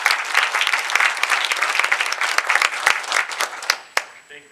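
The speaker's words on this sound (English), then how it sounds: "You deserve a round of applause." Applause from the crowd at a college groundbreaking ceremony for a health professions building, a dense, steady patter of many hands clapping close by that thins out toward the end.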